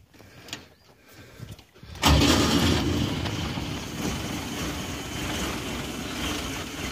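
Unimog 404 engine firing up: faint clicks and cranking give way to an abrupt loud catch at about two seconds, then a steady, close rumbling idle that holds to the end.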